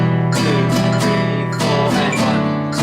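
Acoustic guitar strummed in a steady rhythm, with regular down and up strokes including added offbeat up strums, played close and fairly loud with no voice.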